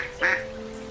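A cartoon duck gives a single short, nasal quack from a pond beside a forest, clear and close over a faint steady tone.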